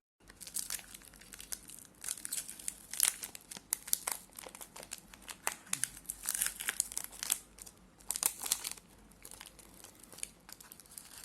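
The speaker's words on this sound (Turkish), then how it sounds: "İsterseniz hemen paketi açalım." A crinkly plastic wrapper on a cookie-chunk wafer bar is opened up close, giving repeated irregular crackling and tearing bursts over about eleven seconds with short pauses between them, fairly faint overall.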